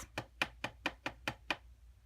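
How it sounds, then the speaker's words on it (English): Seven light, evenly spaced taps sound as a stamped card is knocked to shed excess white embossing powder, each a crisp, close, quiet knock about a quarter second apart against near silence. "sprinkle a little bit right on that image, and then tap off the excess"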